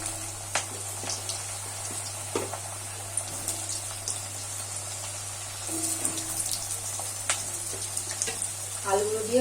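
Cut potatoes go into hot oil with nigella seeds and fry, giving a steady low sizzle broken by occasional clinks and stirring scrapes over a constant low hum, with some sounds rising near the end.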